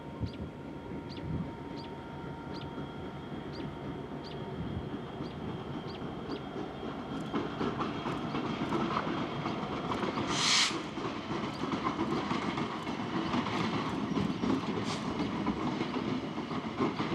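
A train on the Canadian Pacific Rockland Subdivision in Maine passes near a causeway, a rumbling roar that builds halfway through. Evenly spaced wheel clicks come first, then a sharp burst of horn or brake noise near the middle.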